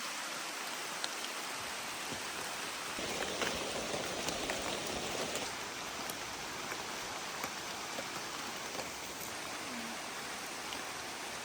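Steady rain falls during a hike through the forest of Corcovado National Park in Costa Rica, a dense, continuous hiss of drops on leaves and surfaces that stays even throughout with no voices.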